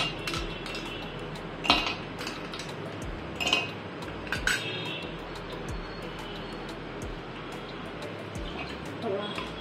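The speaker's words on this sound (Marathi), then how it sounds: "पहिले आपण इथे बर्फ टाकून घेऊ" Ice cubes clink and rattle into glasses in a kitchen while mint lemon masala sherbet is served, a few sharp bright chinks standing out over steady background noise, with someone talking throughout.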